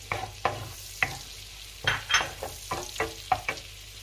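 Ginger sautéing in butter in a pan, heard as a series of short sizzling bursts and scraping stirs spaced irregularly, moderately close with quiet pauses between.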